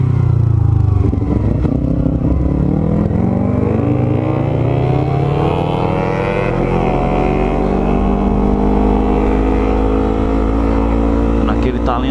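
Yamaha MT-03 motorcycle engine, warmed up, revving and accelerating loudly and close by, a steady rising roar with harmonics climbing through most of the run, with a voice talking over it near the start.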